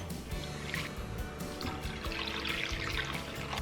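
Warm water is poured into a bowl for bread dough, a steady close trickling and splashing stream with a few bumps of the container, no talk.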